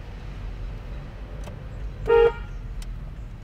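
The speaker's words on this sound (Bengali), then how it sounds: "হর্ন মারো" A vehicle horn gives one short, clear toot on the NH10 mountain road between Sikkim and Siliguri, rising above a low, steady hum of the road and engine.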